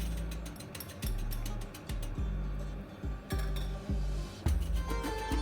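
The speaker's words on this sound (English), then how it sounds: "Using a few taps of the bottom of the pan on the strainer releases some of the excess liquid" A pan bottom tapped against a tea strainer while making cardamom chai gives a series of sharp metallic taps, roughly one per second, close and fairly quiet, with faint clinking between them.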